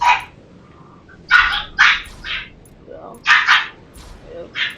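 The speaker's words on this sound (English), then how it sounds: "If you guys can hear that, it's my dog's barking." A dog barks nearby in short, sharp bursts, some doubled, spaced irregularly over a quiet background, while a person says a few words.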